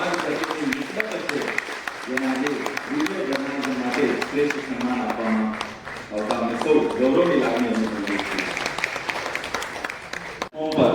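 Loud, sustained applause from an audience at a journalists' award ceremony honouring Devarshi Narad, clapping steadily for about ten seconds with voices and talk mixed through it.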